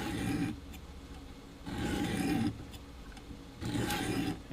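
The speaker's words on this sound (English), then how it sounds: "you just run it with the coarse as many times as it takes to get a burr on the opposite side." A knife is drawn across the coarse stone of a Work Sharp guided sharpener, making three rasping strokes with short pauses between them, close and steady with no talk.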